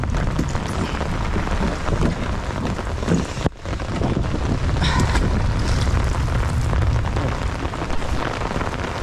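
Rain falling outdoors during river fishing for giant freshwater prawns, a steady loud hiss of drops with wind rumble and a brief dropout partway through, continuous with no voices.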